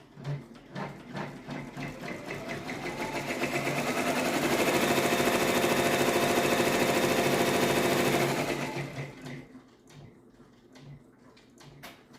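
A multineedle machine stitches a 3 by 9 potholder, rattling needles building into a loud, dense, continuous whir before winding down to quieter intermittent clicks and taps.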